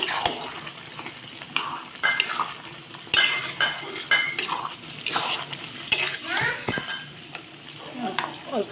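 Muri ghonto with fish head and garam masala being stirred in a pan, a spoon scraping and clattering against the metal over a steady sizzle, with irregular knocks and scrapes throughout and a voice speaking at times.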